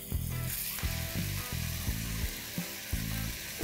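Squid masala frying in a pan on a high flame, a dense constant sizzle broken by regular rhythmic scraping strokes of a stirring spoon, close and with no talking.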